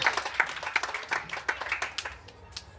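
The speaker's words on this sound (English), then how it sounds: "round of applause for the" Audience applause at a corporate event, scattered close claps from a modest crowd that fade somewhat toward the end.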